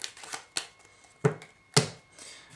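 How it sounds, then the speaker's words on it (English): Playing cards are shuffled and cut during a poker-style magic trick, giving a few short, quiet riffling bursts separated by brief pauses, close and with no talking. "Give the cards a shuffle"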